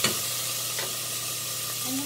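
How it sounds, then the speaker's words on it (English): Tomatoes sizzle as they fry with rice in a pan for Mexican rice, a steady close crackling hiss that stays loud and even throughout. "you can hear that sound of sizzling tomatoes in there"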